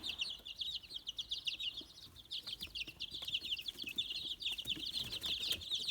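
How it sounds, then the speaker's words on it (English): Fluffy blue Australorp chicks peep and chirp continuously at close range, a dense high-pitched chorus with no talking. "this little guy right there is one of those blue Australorps"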